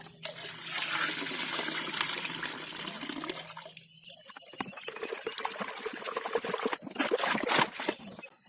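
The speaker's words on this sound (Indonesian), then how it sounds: "Larut kita tuangkan." Dissolved Nativo fungicide solution, mixed for treating chili plants, is poured out in a continuous close splashing trickle. The stream stops partway through, followed by a few irregular drips and sloshes.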